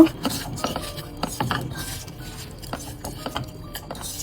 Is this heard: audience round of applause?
no